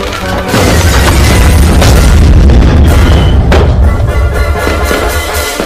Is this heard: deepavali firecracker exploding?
yes